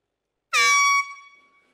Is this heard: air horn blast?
yes